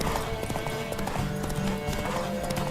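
A horse galloping in The Witcher 3: quick rhythmic hoofbeats clattering throughout, mixed with game music and ambient noise.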